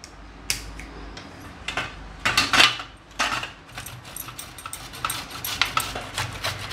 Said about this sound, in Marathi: सर्वात प्रथम आपण काकडी किसून घेऊया।